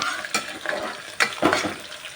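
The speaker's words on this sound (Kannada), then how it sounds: "ಈಗ ಇದಕ್ಕೆ ಶುಂಠಿ ಹಾಕ್ಕೊಳ್ತಾ ಇದ್ದೀನಿ ಸಣ್ಣದಾಗಿ ಕಟ್ ಮಾಡಿ ಇಟ್ಕೊಂಡಿದ್ದಂಥ ಸುಂ ಶುಂಠಿನ ಹಾಕ್ಕೊಳ್ತಾ ಇದ್ದೀನಿ" Chopped ginger, about half an inch's worth, frying in hot oil for tempered rice, with a steady sizzle and several sharp clattering stirs of a spoon in the pan, close and fairly loud.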